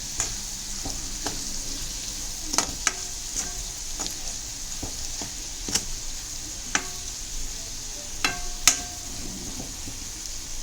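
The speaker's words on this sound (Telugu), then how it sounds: "ఈ పొడి వేసిన తర్వాత ఒకసారి మొత్తం బాగా కలపండి." Potatoes and spice powder sizzle steadily in a frying pan, with repeated sharp clicks and scrapes of a utensil stirring against the pan at close range.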